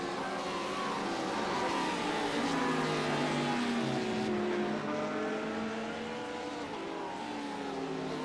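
Several race cars roar down the Wellington Straight at a circuit during the Missed Apex Marlin Memorial Cup, engines droning steadily with layered, shifting pitches as they close up in the slipstream, loud and continuous with no talk.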